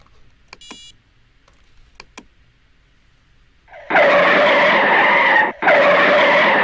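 A braking car's tyre-skid sound effect from a coding project game, where the car stops for a turtle obstacle before reaching a heart: a loud, harsh screech runs for nearly three seconds with one brief break, after near silence and a few faint clicks.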